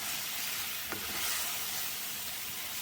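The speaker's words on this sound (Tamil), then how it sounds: "நல்லா வதங்கிட்டு பெருங்காயத்தூள் கொஞ்சம் போட்டுக்கலாம் தேவையான அளவு நல்லா மிக்ஸ் பண்ணிடுவோம்" Onions sautéing in a pan as asafoetida powder is added and stirred in while cooking a lentil dish with ridge gourd, making a continuous close sizzle with one brief scrape of stirring and no voices.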